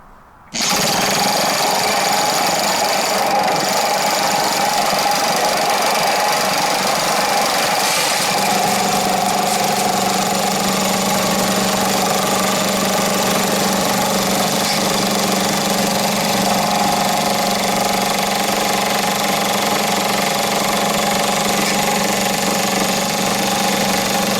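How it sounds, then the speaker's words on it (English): Engine-driven jackhammer cone crusher crushing gold tailings at a dig site, a loud continuous mechanical drone with rattling, knocking impacts that starts abruptly and runs steadily close by without pause. "This is my jackhammer cone crusher, and I'll use this to crush all that material."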